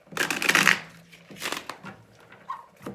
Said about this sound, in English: One more shuffle will be good.